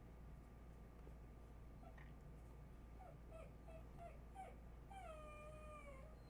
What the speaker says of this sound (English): You guys hear that whiny dog?